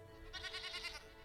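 A short goat bleat from a video game, a single wavering, nasal cry lasting under a second, clear and moderately loud.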